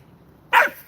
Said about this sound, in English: This crazy dog.